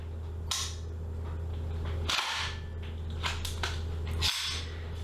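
Charging handle of a Viper Tech VI-46 gas blowback airsoft rifle racked repeatedly, giving three or four sharp metallic clacks close up and spaced about two seconds apart over a steady low hum.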